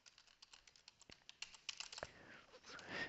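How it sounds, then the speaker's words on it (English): Typing on a computer keyboard, a rapid run of soft, close key clicks in an uneven rhythm, faint and alone with no voices. "Again, I'm just typing it in."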